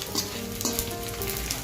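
Edible gum frying in hot ghee in a pan for methi pak, a dense, close, continuous crackling sizzle with small pops and a brief stir scrape, steady throughout with no talking.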